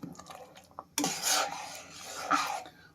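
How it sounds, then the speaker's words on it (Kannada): Washed rice tipped into a pot of spiced masala on the stove: a sudden gritty pouring rush starts partway through, followed by scraping and stirring against the pot, with soft kitchen clatter before it. "ಇವಾಗ ಡೈರೆಕ್ಟು ಅಕ್ಕಿ ತೊಳೆದಿಟ್ಟು ಅದನ್ನ ಹಾಕ್ಬಿಡ್ತೀನಿ."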